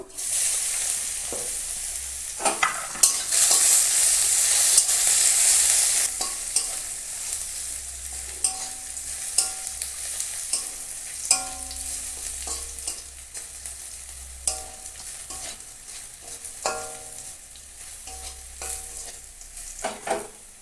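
Cumin seeds, bay leaf and garlic sizzle in hot oil in a pan, a loud burst of frying at first that settles into a steady crackle with occasional stirring scrapes, no voices.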